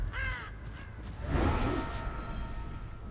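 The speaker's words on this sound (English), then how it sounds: "I like how there's crows in here." Crows caw in the video game Dead by Daylight, a couple of harsh calls at the start and middle over a low ambient rumble, with no one talking.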